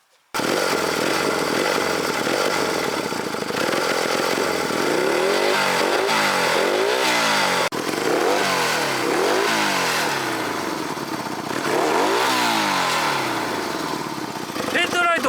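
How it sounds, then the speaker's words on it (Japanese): A Honda CB125K3 motorcycle engine running with its headlight on, close and loud, settling into a steady idle with repeated rising and falling revs throughout. "ヘッドライトをつけているとアイドリングも安定しています。"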